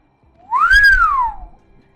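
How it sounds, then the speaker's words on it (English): Anime Haki sound effect from One Piece, a single bright whistling tone that swoops up and falls back over about a second, loud and alone. "They're giving it like a Haki sound effect too"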